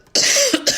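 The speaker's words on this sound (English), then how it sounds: "I apologize for coughing." One sharp, close cough followed by a couple of quick rasping bursts, loud and abrupt, with no talking.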